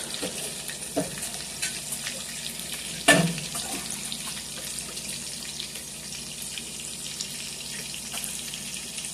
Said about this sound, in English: we'll let our mushrooms just go ahead and cook down